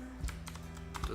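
Rapid typing on a computer keyboard, a quick run of clicky keystrokes with a couple of heavier taps, close and alone with no talk.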